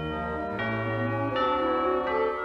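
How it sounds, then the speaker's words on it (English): Sustained bell-like tones ring within the Milton the Monster Show theme, changing pitch in several steps, steady and fairly loud without voices. "The bells that are ringing say it was fun bringing you Milton the Monster Show"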